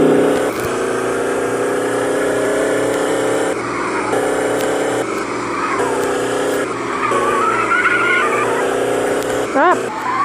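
A car in a driving game attempts to drift, with a steady engine drone and tire squeal rising and falling throughout, loud and continuous, while a person talks over it.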